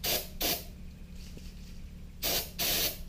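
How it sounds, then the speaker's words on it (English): Brake cleaner is sprayed onto a pad in short hissing bursts while cleaning an engine block in a BMW M54 build: two quick sprays, a pause, then two more close and clear, with no talk. "So we'll just kind of take a pad like this, brake cleaner, and just kind of hit it"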